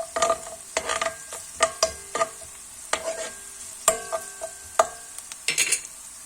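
Eggplant and bell pepper frying with onion in oil in a pan, stirred with a utensil that clacks and scrapes against the pan about a dozen times in an uneven rhythm over a constant sizzle, close by, with no talking.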